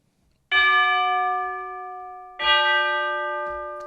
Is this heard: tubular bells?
yes